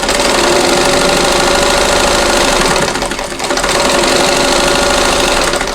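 A sewing machine stitches quilt squares together along the right side, a loud, close, rapid mechanical chatter that runs continuously, with a brief dip in the middle before resuming.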